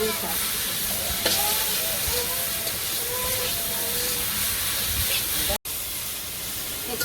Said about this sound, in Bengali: শাকটা আমার ভাজা হয়ে গেছে